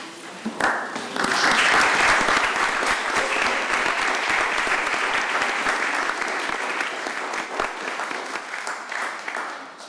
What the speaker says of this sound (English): This entire city council applaud you for your actions.